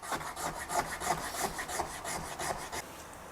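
A hand file rasps a flat bevel into a wooden guitar body in a steady back-and-forth rhythm of about a dozen close, loud strokes.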